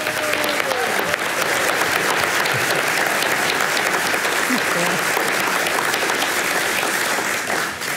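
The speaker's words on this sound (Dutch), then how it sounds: "Laten we beginnen met een warm applaus voor Karin Ahmad-Mukrim." Warm, loud audience applause at a lecture event, a dense continuous wash of clapping lasting the full stretch with faint voices underneath.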